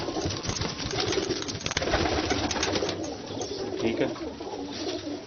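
Ali Wale pigeons coo and rustle together inside a cage, a dense steady chorus of soft murmuring calls close by, with a voice briefly speaking over them.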